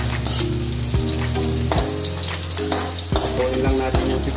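Garlic and onion sizzle steadily in a hot pan for pork menudo, a continuous close frying hiss with occasional stirring scrapes and clinks of the utensil.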